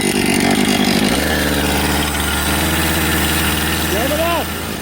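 A Husqvarna chainsaw idles loudly and steadily close by beside a smaller tree in the Adirondacks, a constant low engine drone with a slight wavering pitch near the end.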